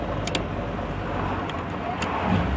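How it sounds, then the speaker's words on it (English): Engine of a 1962 Triumph TR4 car shifting into second gear, a steady close rumble and road noise with the revs rising slightly near the end. "Going into second gear."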